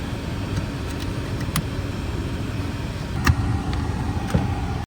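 Replacement blower motor running inside a 2008-2016 Chrysler Town & Country minivan, giving a steady, even whir with no screech, broken by a few faint clicks and taps.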